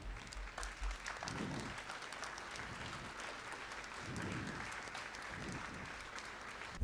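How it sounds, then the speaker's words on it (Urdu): An audience at a company annual meeting applauds to welcome the chairman to the stage, steady sustained clapping from a moderate crowd that carries on evenly throughout. "جب تک وہ اسٹیج پہ تشریف نہ لے آئیں آپ کی تالیوں کی گونج رکنی نہیں چاہیے"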